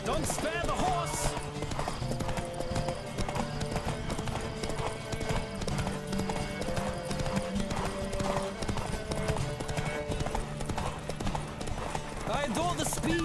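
A galloping horse in The Witcher 3 pounds out quick, continuous hoofbeats through a race, mixed with a musical score and brief voices speaking.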